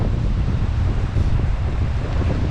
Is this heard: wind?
yes